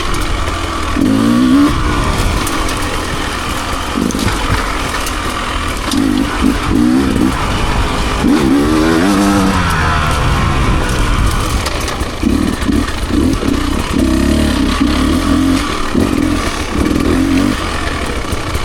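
A new dirt bike, ridden on a wooded trail at Hilts Road, snarls close and loud throughout with continuous engine drone and repeated revving surges as the throttle rises and falls.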